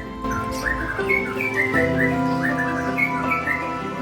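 A white-rumped shama sings a rich, melodious run of whistled phrases, loud and close, repeating varied notes with little pause.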